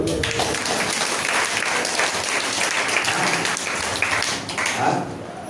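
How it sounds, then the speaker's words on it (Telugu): A congregation applauding at a Sunday worship service, dense, sustained clapping from many hands filling the room, with faint voices mixed in. "చప్పట్లు కొట్టు."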